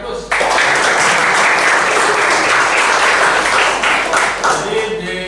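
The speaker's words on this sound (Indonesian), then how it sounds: "Berikan aplaus." A classroom of students breaks into loud, dense applause that begins suddenly and carries on for several seconds before thinning out, with voices murmuring under the clapping.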